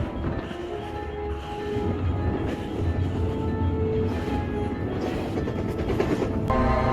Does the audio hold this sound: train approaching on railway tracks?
yes